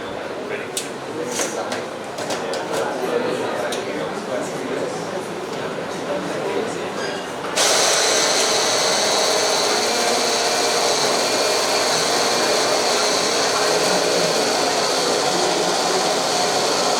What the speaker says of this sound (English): We'll take our soaked black-eyed beans in blender.